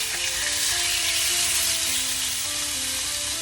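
Beef laid in a single layer sears in a hot pan for beef with broccoli, producing a loud, continuous, close hissing sizzle with no breaks throughout.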